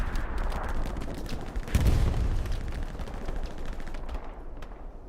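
Machine gun fire in the video game Hell Let Loose, a dense stream of rapid shots and distant battle noise with a heavier boom partway through, continuous throughout.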